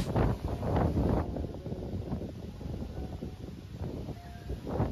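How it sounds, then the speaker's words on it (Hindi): Strong wind blows outdoors in a village during a festival, buffeting the microphone in heavy, irregular gusts that roar throughout and ease slightly midway. "यहाँ पे देखिए इतना ज्यादा तेज हवा चल रहा है।"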